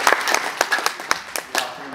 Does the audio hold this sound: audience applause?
yes